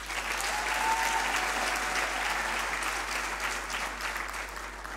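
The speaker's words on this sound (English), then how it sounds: "they do deserve yet another round of applause" A graduation ceremony audience claps for the choir, producing sustained, even applause from a large crowd that holds steady and fades slightly toward the end.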